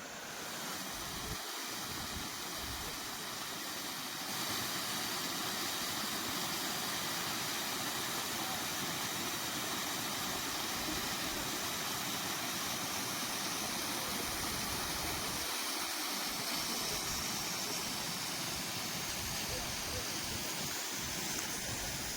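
Jadamadagu (Venkateshwara) waterfall near Bagepalli roaring in a steady, dense broadband rush, continuous and moderately loud throughout with no voices.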